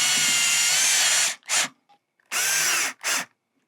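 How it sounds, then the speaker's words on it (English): A power drill drives screws into a greenhouse louvre screen frame in four close, loud bursts: two longer whirring runs, each followed by a short burst, with silence between. "these will be used to just screw the screen frame to the screen itself"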